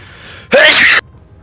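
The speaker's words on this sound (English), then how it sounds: "I have to sneeze" A single sharp sneeze bursts out close to the microphone, loud and brief, against a quiet background.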